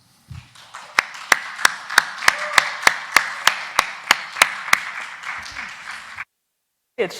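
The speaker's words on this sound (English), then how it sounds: "Please welcome our panel with a round of applause." A single person claps steadily about three times per second in front of a quiet hum while a panel is welcomed, then stops abruptly into silence.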